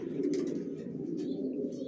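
Racing pigeons of the Johnson line cooing in a loft, a close, steady low rolling coo with faint higher flutters and chirps over it.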